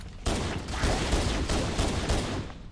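Pistol gunfire in Halo CE Anniversary, a loud, continuous volley of rapid shots that rattles without pause across the whole stretch.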